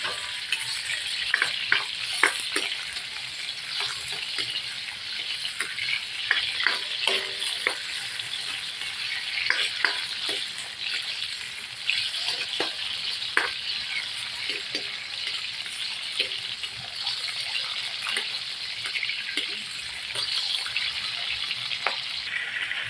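Bell peppers fry in a pan for beef caldereta, giving a steady close sizzle broken by frequent scraping stirs and clicks of a utensil. No one talks.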